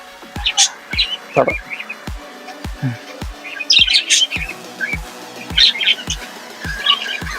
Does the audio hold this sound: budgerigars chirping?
yes